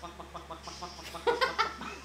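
A chicken clucks in a mobile battle game, several short rhythmic clucks followed by louder, brighter squawks at moderate volume, with no talk over it.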